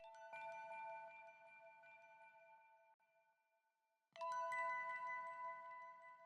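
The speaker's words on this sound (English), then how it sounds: "Then I added like this Mellotron bell." Mellotron bell sample chords in a soulful downsampled hip-hop production, two sustained ringing chime chords with a short gap between, bright and clean, without voices.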